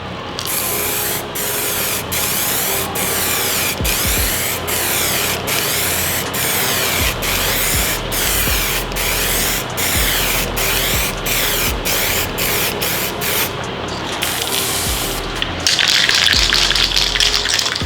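Steady, loud hiss of a spray gun applying paint to a carbon wing part for a Ford Focus ST/RS, running continuously for the whole stretch with short breaks between passes and a brighter burst near the end.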